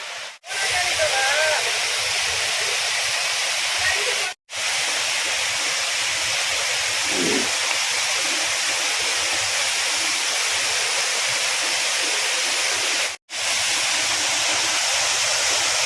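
A waterfall at Tanwat, Nuapada district, Odisha, roars as a loud, constant rushing hiss, with faint voices barely audible beneath it.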